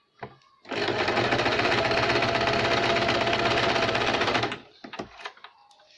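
A sewing machine runs a steady double line of stitching on a double katori blouse, a loud continuous mechanical whir lasting a few seconds, then slowing and stopping with a few clicks.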